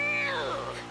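A person imitates a cat meowing, a single short drawn-out meow voiced close up during a racing game session, rising then falling in pitch and fairly loud.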